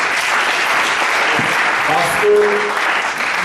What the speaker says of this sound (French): je voudrais qu'on applaudisse très fort notre frère